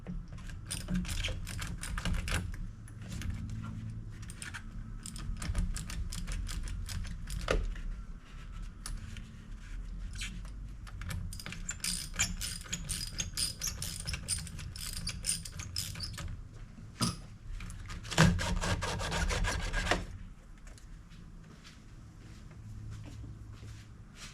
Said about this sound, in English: I'm going to use an 8mm socket to remove this one